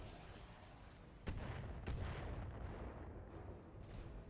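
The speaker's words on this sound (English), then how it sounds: "we are going to drop artillery on the Griffin again" Artillery rounds land in the RogueTech BattleTech mod, a sharp impact around the middle followed by a second heavy thud, with rumbling booms sustained over a dense low battlefield din.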